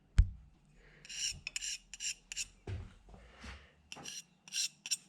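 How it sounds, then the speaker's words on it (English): Repeated dry rasping strokes of a steel scribe dragged across the machined metal of a milling machine quill lock, roughly ten short scratches in an uneven rhythm, close and fairly quiet, with a sharper knock at the start. "I'm scratching the crap out of it."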